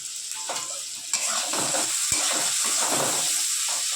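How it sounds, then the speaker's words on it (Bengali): Bay leaf, onion, capsicum and tomato fry in hot oil with a steady close sizzle and hiss, joined by scraping stir sounds from about midway through. "দেখতে পাচ্ছ মা এটা ভাজা দিয়ে দিয়েছে।"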